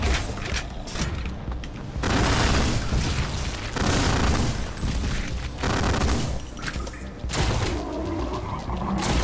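Repeated heavy shotgun blasts in the first-person shooter Ion Fury, loud and close, booming in bursts with short gaps between volleys, alone without talk.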